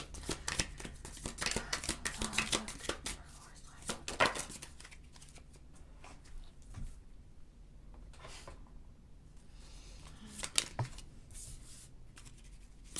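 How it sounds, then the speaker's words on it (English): Tarot cards are shuffled repeatedly up close, with rapid riffling and tapping bursts and softer pauses between them. "I'm going to go ahead and shuffle the tarot"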